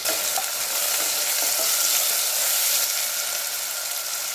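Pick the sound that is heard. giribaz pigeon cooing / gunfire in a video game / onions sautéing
onions sautéing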